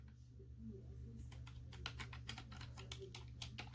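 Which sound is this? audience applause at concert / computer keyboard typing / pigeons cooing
computer keyboard typing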